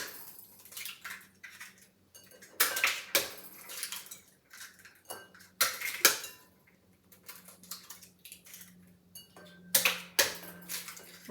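Five large eggs cracked against a hard surface in a home kitchen for corn pudding, giving sharp, close taps and clinks in several bursts, with small shell and bowl clatter between them and no talking.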